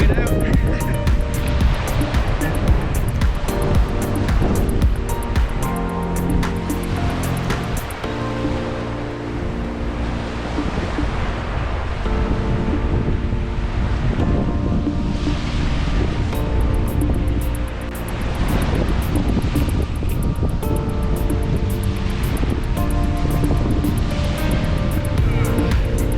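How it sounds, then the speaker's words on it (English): Breeze and surf on Seven Mile Beach, Grand Cayman, a loud continuous rush of wind buffeting the microphone over breaking waves, with a person talking throughout. "It's a nice breeze today."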